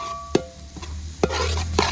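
A spatula stirs chopped banana flower with grated coconut in a pan, making three or four distinct scraping strokes over a soft sizzle and a low steady hum.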